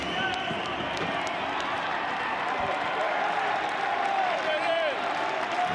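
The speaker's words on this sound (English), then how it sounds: "It's got the crowd on both sides up now" College baseball crowd at Florida State vs Auburn cheering with the bases loaded, a dense roar of applause and shouting from fans on both sides that holds steady throughout, with a commentator's voice over it.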